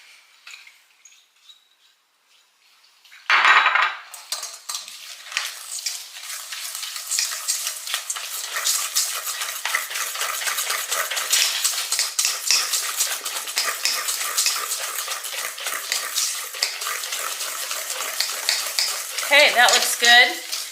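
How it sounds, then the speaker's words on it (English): Two eggs and a cup of white sugar are beaten together for a rhubarb torte. After a quiet start and a sharp knock, a steady scraping, rattling whir of beating runs on close and loud for over fifteen seconds. "I'm going to add 1 cup of white sugar. And I'm going to continue to beat that a little bit."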